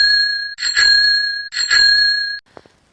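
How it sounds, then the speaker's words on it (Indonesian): A bicycle bell rings loud and close in two separate bursts of rapid trilling, each lasting about a second, followed by a faint clink. "Bunyi bel sepeda yang sudah Bunda contohkan di awal tadi ya."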